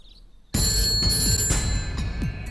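An electronic phone ring starts abruptly after a moment of near silence, a steady high-pitched trill with bright tones sustained over low rumbling background noise.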